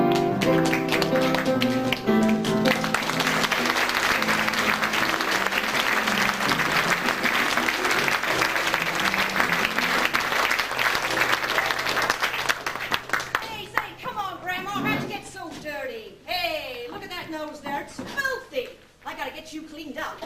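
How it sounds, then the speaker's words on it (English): An audience breaks into loud, sustained applause as stage curtains open, a dense wash of clapping over music that fades after a while into actors speaking onstage. "as curtains open, give that nice resounding applause"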